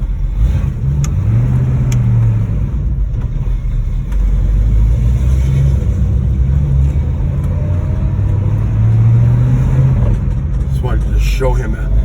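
A 1966 Ford Mustang Fastback 2+2 with a mildly cammed engine pulls onto the road, its low rumbling note rising and falling through steady revs as it drives, loud and continuous with a voice talking over it.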